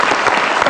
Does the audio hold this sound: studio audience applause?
yes